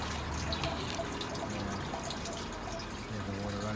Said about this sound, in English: there's plenty of water running